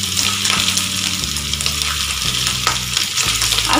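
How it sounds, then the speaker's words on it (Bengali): Fish egg koftas fry slowly in hot oil in a kadai over a low flame, a steady close bubbling sizzle over a low mechanical hum, with no voices. "তো কড়াইতে আমি তেল দিয়েছি, তেল গরম হয়ে গেছে, এখন এই কোপ্তাগুলো আস্তে আস্তে আমি দিয়ে দেব।"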